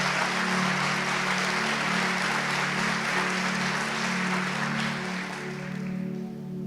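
A church congregation applauds steadily, a dense, even wash of clapping that fades slightly toward the end, with a sustained low organ-like hum underneath.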